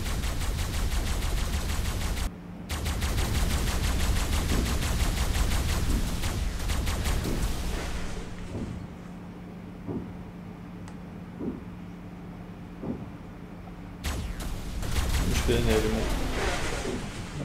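Rapid video-game gunfire from ARK Survival Evolved as turrets are destroyed in a cave base, dense loud bursts for several seconds, a short gap, then fainter scattered shots before another loud burst near the end.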